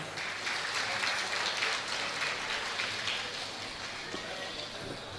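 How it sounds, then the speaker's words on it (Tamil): An audience claps to welcome a Bharatanatyam dancer at an arangetram, a continuous wash of many hands that holds fairly evenly and fades slightly toward the end. "அவரை நாம் கைத்தட்டி வரவேற்போமா?"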